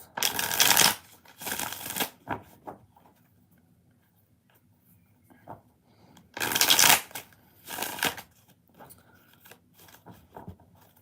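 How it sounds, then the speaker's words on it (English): Two bursts of tarot cards being riffle-shuffled, each a quick papery flutter followed by a softer tap, separated by quiet with faint ticks. "Four more shuffles."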